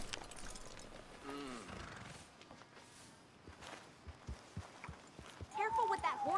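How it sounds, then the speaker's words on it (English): A horse's hooves clip-clop at a walk in the video game Red Dead Redemption 2, fairly quiet under voices and background game sounds, with the hoof beats becoming clearer and more regular toward the end. "Careful with that horse, Arthur."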